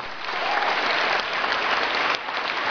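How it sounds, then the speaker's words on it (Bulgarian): An audience at a flute club concert on stage claps in steady, dense applause that stays even and fills the whole moment, with no voices over it. "Аплодисменти за ръководителя на нашите прекрасни флейтистки Милена Николова."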